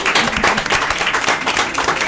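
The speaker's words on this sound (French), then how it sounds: "On les applaudit." A studio audience claps with dense, lively applause, steady and close throughout the short burst.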